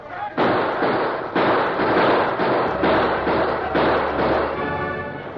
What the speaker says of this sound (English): Hey, listen. Gunfire, Hart.